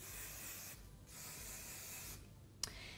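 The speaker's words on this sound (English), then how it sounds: "And then all that's left to do is give them a little spray." Hairspray hisses from an aerosol can in two or three steady bursts onto a finished glam Scouse curtain-fringe hairstyle, close and fairly quiet, with a brief click near the end.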